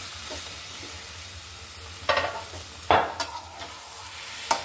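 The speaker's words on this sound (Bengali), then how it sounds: "মশলাটা একদম এই থোড় ভাজির সাথে যেন একদম মিশে যায়, এভাবেই করতে হবে।" Banana stem fries with spices in a pan, a soft background sizzle broken by a few sharp, close scraping stirs of the spoon, with no talking.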